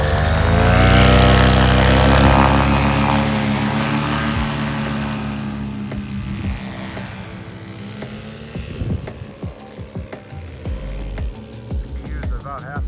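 A Cosmos 300 cc Kraft paramotor engine roars loud and steady close by, then the throttle eases and the tone drops, with sharp clicks and bumps over the lower drone while a voice talks briefly.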